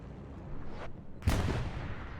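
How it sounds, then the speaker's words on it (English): Artillery fire during a Hell Let Loose match on Utah Beach, a distant rumbling blast followed by a sharp, loud impact with a decaying tail, no talk. "The artillery was so precise on this garrison."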